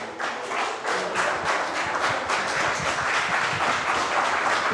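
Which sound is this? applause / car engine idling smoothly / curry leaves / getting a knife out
applause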